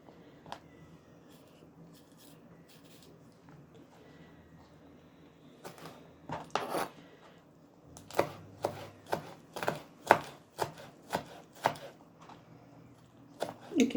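A knife chops liver on a board, slow at first, then a run of steady, evenly spaced cuts close by in a quiet room.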